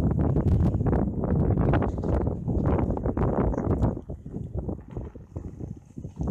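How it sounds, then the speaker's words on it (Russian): Strong wind gusts roar against the microphone while blowing snow across a winter hilltop above a pond, loud buffeting bursts that ease off toward the end. "ветер сдувает снег"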